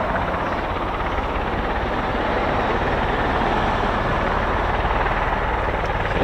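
A CV-22 Osprey tiltrotor aircraft idles on the ground at a base, its rotors and engines producing a loud, constant, broadband roar that fills the whole stretch without letup.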